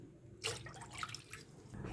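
Water poured glass by glass into a cooking pot for Knorr Hot and Sour soup, a short faint splash followed by light trickling and dripping, quiet and close with no talking.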